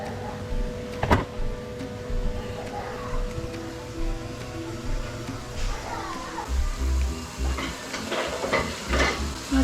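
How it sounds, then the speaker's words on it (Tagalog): Vegetables cooking in a pan give a low, steady sizzle with intermittent stirring scrapes and clatter, plus a sharp knock near the start, all close by in a busy home kitchen. "Nagluluto ako ng gulay."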